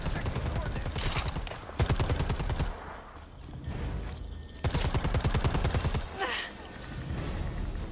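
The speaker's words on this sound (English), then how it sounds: "I don't know where the fuck he's shooting from" Rapid automatic gunfire in the video game Predator: Hunting Grounds, loud sustained bursts broken by short pauses, with a player's voice talking over parts of it.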